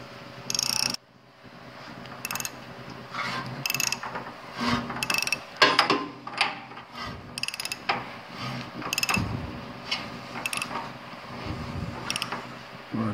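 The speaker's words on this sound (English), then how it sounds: "now I'll rotate the crank the other direction until I find the exact same spot with the piston coming up on the other stroke" VW Type 1 engine crankshaft turned slowly by hand, producing intermittent close mechanical clicks, ratcheting creaks and metallic knocks spread irregularly across the stretch, with no speech.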